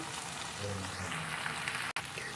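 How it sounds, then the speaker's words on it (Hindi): Masala spices fry in a pan for keema bhindi, a steady soft sizzle and crackle at moderate distance, with one brief dropout near the end. "मसाले को अच्छे से भून लेते हैं 2-3 मिनट"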